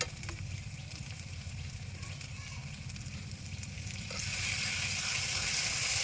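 Ginger, cumin, garlic and green chilli pastes go into a pan for mutton curry cooked outdoors in a garden, a soft steady sizzle that jumps louder and brighter near the end.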